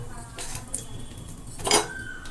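Fried pieces for an ginger chutney are lifted from a pan and dropped onto a plate, giving a few light metallic clinks and scrapes of utensil against dish, close and brief over quiet kitchen background.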